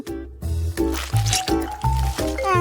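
Food dipped into a flowing chocolate fondue fountain gives wet, thick squelches in a regular series of close, fairly loud splats, with some faint tonal background sound.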